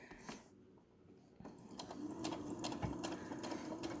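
A sewing machine back stitches a tote bag seam, running in a fast mechanical whir with a brief pause, then a steady rhythmic stitching hum close by.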